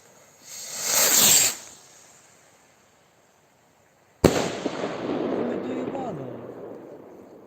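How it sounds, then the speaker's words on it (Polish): A firework rocket, a killer type with a green-blue tip, launches on New Year's Eve with a rising hiss, then a sharp loud bang followed by crackling and sparkling bursts that fade into noisy outdoor ambience. "Dobra, rakieta killer z zielonym niebieskim czubkiem."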